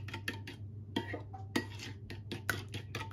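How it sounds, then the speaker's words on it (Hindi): A spoon stirs donut dough mixture in a bowl, giving repeated close clinks and scrapes against the bowl in an irregular rhythm over a steady low hum, with no talking. "अच्छी तरह मिक्स करना है इसको।"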